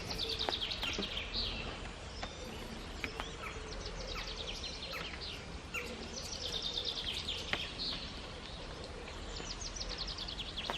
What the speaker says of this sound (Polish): Ptaszki ładnie śpiewają.